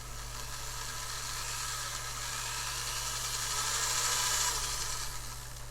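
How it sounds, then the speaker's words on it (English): Steady high whirring of a drill boring through PVC pipe, a continuous grinding buzz that swells slightly near the end over a low constant hum. "we're going to attempt to drill a hole."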